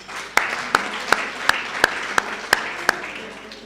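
Eight sharp, evenly spaced hand claps ring out at a building opening and renaming ceremony, each distinct and fairly close, over a low murmur of room noise.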